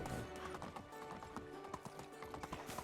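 Horses pulling a wagon in the video game Medieval Dynasty, a steady run of hoof clip-clops with a faint whinny, quiet and rhythmic, with no voices.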